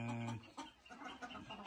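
Chickens on a Turkish farm, a champion rooster among hens, give a brief nasal call followed by a few soft, low clucks, close but faint.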